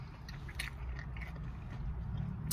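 Someone biting into and chewing a Hot Cheeto corn dog inside a car, with soft crunchy chews over a steady low rumble of background noise.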